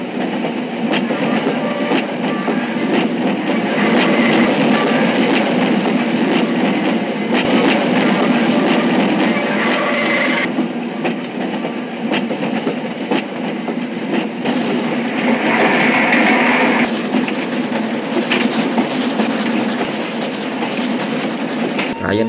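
A moving train rolls along the rails in a film, with a loud, steady roar of wheels and carriages and rhythmic rattling running without a break for over twenty seconds.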